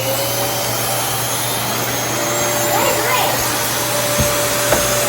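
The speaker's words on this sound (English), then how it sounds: "Dean, can you turn the vacuum on real quick?" A household vacuum cleaner runs steadily and loudly close by, a constant whining drone with faint thumps, while a dog is exposed to it for the first time.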